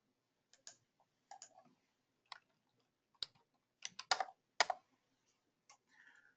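Someone typing on a computer keyboard to log in, a sparse run of close, crisp key clicks in irregular bursts over a quiet background.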